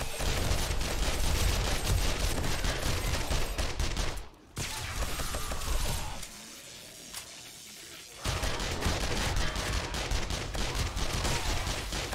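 Sustained rapid gunfire from hip-fired weapons at a zombie horde base in 7 Days To Die Alpha 20, loud and dense bursts that break off briefly, drop to a quieter lull, then resume at full intensity.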